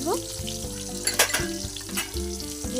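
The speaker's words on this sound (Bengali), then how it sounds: "সব পেঁয়াজগুলোকে একটু ভেজে নেবো সুন্দর করে।" Chopped onions and cumin fry in a pan over a handmade clay stove, giving a steady close sizzle with occasional stirring scrapes, while tonal music runs softly underneath.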